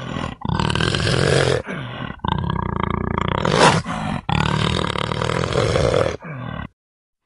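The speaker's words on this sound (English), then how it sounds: "Leopard." A leopard gives long, rasping roars in several sustained, loud bursts with short breaks between them, heard up close with no other sound.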